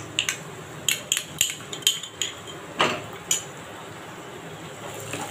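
Spoon scraping and clinking in a pan while mustard-poppy paste is stirred with spices, a series of sharp metallic knocks at irregular intervals over a quiet background.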